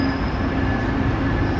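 A commuter train rumbles steadily through a Toronto-area station, loud and close, with a continuous low roar and a faint high squeal from the wheels.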